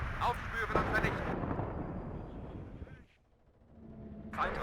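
Artillery fire in the video game WARNO, heavy booming blasts with a long rumbling decay, a quiet gap, then another burst rising at the end, with someone speaking over it.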